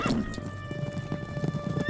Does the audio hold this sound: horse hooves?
yes